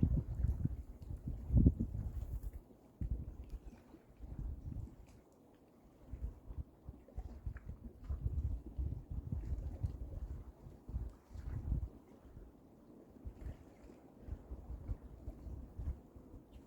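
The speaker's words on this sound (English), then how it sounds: "Pretty nice today, but it's really windy." Strong wind buffets the microphone in low rumbling gusts, rising and falling throughout with no voices.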